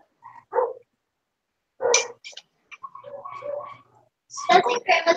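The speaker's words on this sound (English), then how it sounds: "The little ones are yappy." Small dogs yap in short, sharp bursts at close range, with pauses between flurries and a louder cluster of barks near the end.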